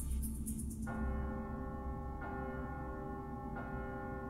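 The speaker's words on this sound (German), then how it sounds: "Warum läutet jetzt die Glocke?" A church bell in the stealth game Styx: Master of Shadows tolls three times at steady intervals, each strike ringing out and sustaining over a low ambient in-game rumble.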